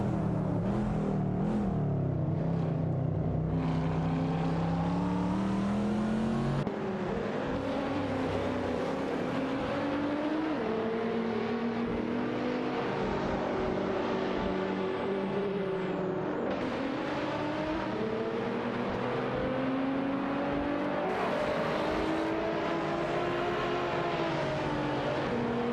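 An Infiniti Q50 race car and a Jaguar F-Type Project 7 battle closely in a race, their engines howling and rising and falling in pitch through gear changes, continuous and loud for the whole stretch.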